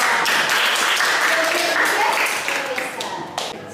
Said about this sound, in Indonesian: Setuju, kita kasih aplaus dong.